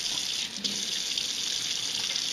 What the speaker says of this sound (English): Come on over to the sink. First priority, as always, wash your hands.